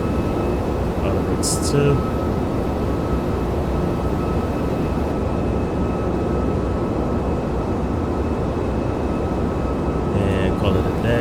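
A Boeing 757 in the Prepar3D flight simulator, on a United Airlines Newark to O'Hare flight, gives a steady loud broadband engine and cabin roar with a faint tonal whine, while someone talks over it.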